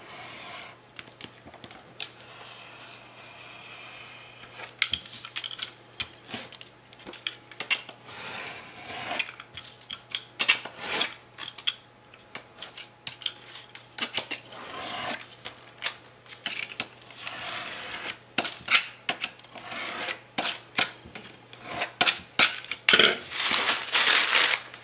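Design paper being cut along marked lines makes quiet, irregular scraping and crunching strokes close by, growing busier toward the end. No one talks.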